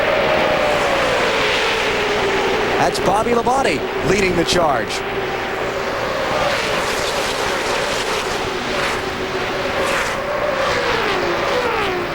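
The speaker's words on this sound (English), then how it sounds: "And here comes the pack, thundering around." A pack of NASCAR race cars at the 2001 EA Sports 500 roars around the track, a steady loud engine drone with a few cars whooshing close past midway, under continuous race commentary.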